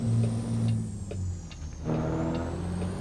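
A Kenworth W990 logging truck in American Truck Simulator grunts low in a low gear, a steady deep engine drone with a faint air-brake hiss and slight pitch shifts, heard alone.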